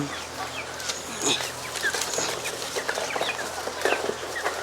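Chickens cluck and chirp as they eat homemade starter feed on a poultry farm, a continuous busy chorus of close, overlapping calls over steady background noise.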